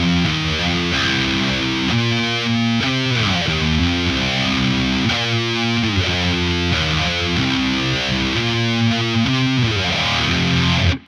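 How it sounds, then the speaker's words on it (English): Distorted electric guitar chords, in a 90s/00s nu metal and heavy rock tone, ring out with a sweeping, swooshing phaser placed before the distortion, played continuously and loud with no voices. "the phaser can actually sound pretty cool going into distortion too"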